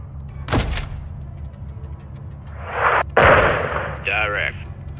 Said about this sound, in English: Where'd the missiles come from,